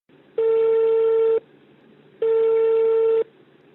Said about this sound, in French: Nous appelons M. Nguessan en question à Abidjan